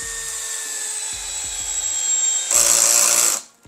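FortG brushless drill driver driving a screw into wood, a steady close motor whine with short pulsing bursts, then a louder higher-speed run near the end before stopping abruptly.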